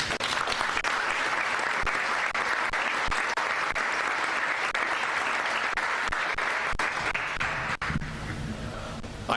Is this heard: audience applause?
yes